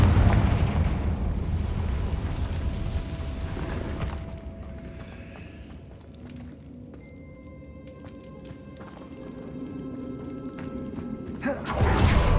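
A Confringo fire spell explodes in Hogwarts Legacy with a loud, deep rumbling blast that fills the first few seconds, then fades into quieter cave ambience with faint tones.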